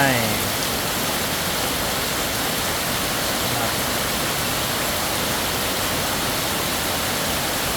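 Steady, dense hiss of light rain falling continuously in Kanchanaburi, Thailand, even and unbroken throughout, fairly loud and close.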